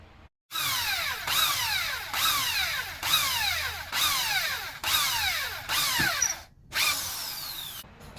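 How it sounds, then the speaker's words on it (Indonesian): An electric drill whirs in repeated bursts, pitch sliding downward each time as the bit bores into wood, with brief pauses between runs. "kita lubangi bagian kayu yang sudah kita tandai dengan menggunakan bor listrik."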